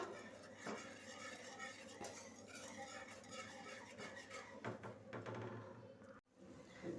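Clinking and scraping of a utensil stirring a corn flour mixture inside a metal pot, steady and close, with a faint bubbling hum underneath.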